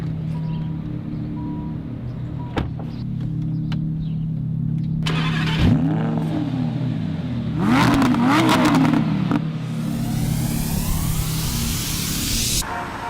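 A Lamborghini Huracan supercar fires up with a loud bark and settles into a steady idle, then revs sharply twice with rising and falling engine pitch before a final roaring climb, heard up close with no talking.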